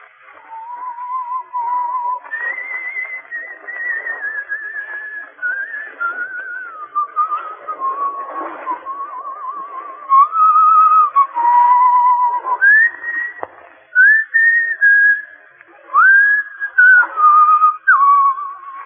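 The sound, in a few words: whistling the tune Annie Laurie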